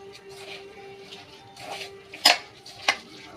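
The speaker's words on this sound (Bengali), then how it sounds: "এবার এটা আমি ভালো করে মিশিয়ে নেব।" Vegetables for pakora batter, seasoned with turmeric, cumin, coriander and chili powder, are mixed by hand in a bowl. Faint, soft scraping and rustling give way to two sharp clinks against the bowl near the end.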